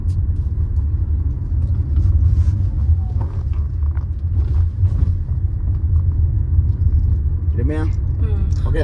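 A Tata Punch EV rolls over a rough, cut-up road, giving a steady, loud low rumble of tyres and cabin noise throughout, with people talking over it.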